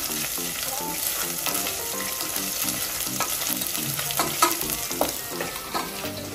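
Mutton curry masala fries in a pan with a busy sizzle, heard close, and a spatula scrapes and stirs in a regular rhythm throughout.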